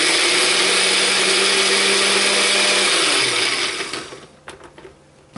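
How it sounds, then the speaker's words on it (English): A blender whirs loudly at high speed, chopping broccoli soup ingredients in a steady roar for about four seconds before winding down and stopping, with a few faint clicks as it settles. "We're done with the blender."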